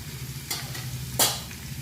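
Kohlrabi being stirred in oil in a pan, a low steady sizzle broken by two sharper scraping strokes of the spatula, close and fairly quiet with no talking.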